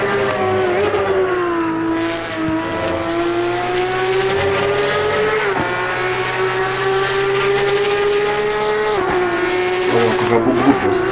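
Porsche Cup race car engine in Assetto Corsa Competizione, a loud sustained high-revving whine that climbs and drops through gear shifts, steady and close throughout.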